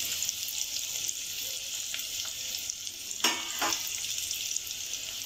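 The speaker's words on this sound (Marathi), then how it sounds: "हा कांदा टाकूया।" Chopped onion and curry leaves sizzle in hot tempering oil for a Malvani mushi masala, giving a steady close hiss of frying with a few sharper spitting bursts partway through.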